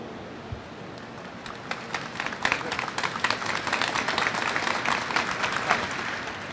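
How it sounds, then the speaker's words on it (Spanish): An audience at a talk on the hidden history of the Internet starts clapping when asked, sparse at first and then swelling into dense, steady applause that grows louder over several seconds. "¿Podéis aplaudir?"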